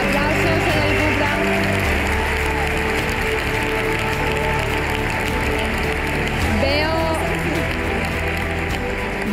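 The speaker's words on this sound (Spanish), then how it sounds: "Un aplauso." Loud, continuous applause from a crowd at a women's football draft event, dense clapping with crowd noise and some voices mixed in, steady throughout.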